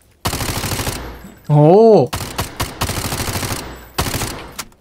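Rapid automatic gunfire at a shooting range in the FPS Delta Force: Hawk Ops, loud close bursts split by short gaps, with a brief exclaiming voice partway through.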